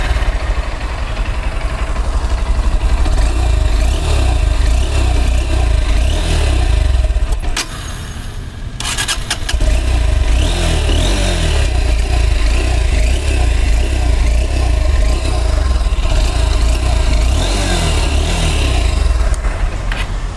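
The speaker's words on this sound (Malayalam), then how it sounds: "ഇനി നമുക്ക് നമ്മുടെ എക്സ്പ്ലേഡിൻ്റെ സൗണ്ട് ഒന്ന് കേൾക്കാം." A Honda X Blade 160 motorcycle engine starts and settles into a steady, loud idle, with a brief dip and restart-like break midway before the even mid-pitched running sound resumes.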